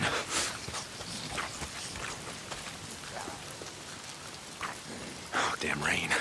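Steady rain pours down in the Days Gone video game, a broad hiss under rustling movement and a few faint thuds and bumps throughout.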